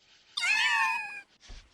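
A cat meows once in Final Fantasy VII Rebirth, a clear, loud, drawn-out cry with a rising then falling pitch, followed by a soft, short second mew.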